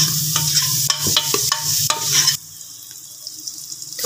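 A spoon stirs turmeric, tomatoes and fresh coriander in a sizzling pan of frying masala for chana dal, with several scraping strokes over loud hissing, after which the sizzle drops to a quieter simmer.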